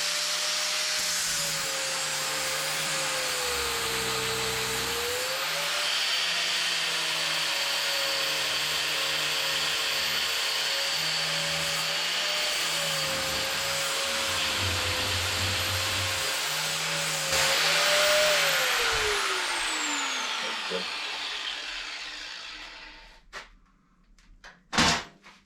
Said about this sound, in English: let's check out the sanding disc